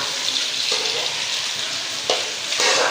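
Onions sizzle and fry steadily in a pan, a close, continuous hiss with a couple of brief stirring scrapes and no voices.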